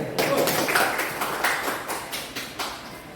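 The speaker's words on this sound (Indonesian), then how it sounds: "Tepuk tangan dulu." An audience at a school good-practice sharing session claps together, a dense, steady patter of hand claps close and fairly loud that tapers slightly toward the end.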